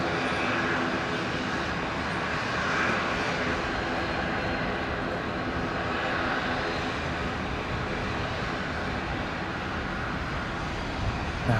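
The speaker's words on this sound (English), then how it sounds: "I think that's the Qantas 330 just turning onto final in the background" A Qantas A330 airliner turns onto final approach at Brisbane International Airport, its engines a steady, distant roar that holds evenly throughout without fading.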